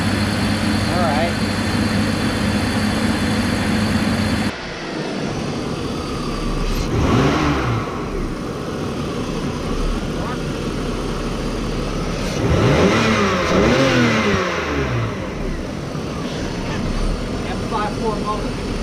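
2001 BMW 525i with an M54 engine running loud and close, rising in a few revs over a steady hum and settling back, with people talking over it.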